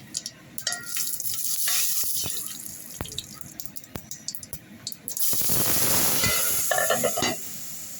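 Whole spices such as cinnamon, star anise, cloves, curry leaves, bay leaf, mustard and cumin seeds hitting hot oil, with sharp pops and clicks, then a loud surge of crackling sizzle, close, with no speech.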